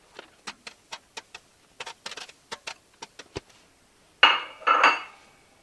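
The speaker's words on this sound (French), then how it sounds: "je vais mettre mes ingrédients dans le four" Trays of vegetables and garlic go into an oven, heard as a series of sharp metallic clicks and taps in quick succession, followed by two louder rattling clatters of a tray or oven rack.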